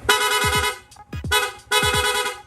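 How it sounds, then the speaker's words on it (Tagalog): A Yamaha Sniper 155 motorcycle's rapid horn honks in quick repeated bursts, three quick sets of blaring tones close up, with the engine idling underneath. "Nag-install din tayo ng rapid horn."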